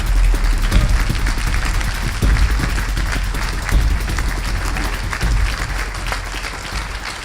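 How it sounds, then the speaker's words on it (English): Audience applause welcoming a guest speaker from New York City onto the stage at a business partnering event, sustained and steady across the whole stretch. "Give him a hand of applause"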